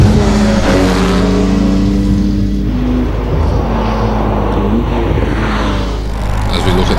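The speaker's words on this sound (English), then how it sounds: "As we look at the Porsche 996 of Mike Holland now making its way around th" Porsche 996 race car at a hillclimb, its engine loud and close with a strong low roar, revving up and easing off as it drives through the course.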